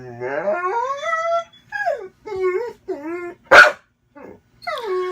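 Dog outdoors barking, whining and howling in close, loud bursts, with drawn-out whimpering howls broken by a sharp bark and short pauses.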